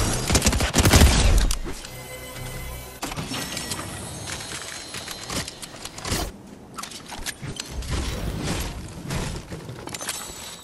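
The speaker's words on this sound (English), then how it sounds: "The SMG took care of him nice." Rapid SMG bursts in the Fortnite video game, a dense loud volley of shots at the start followed by scattered single cracks and shorter bursts over game sounds.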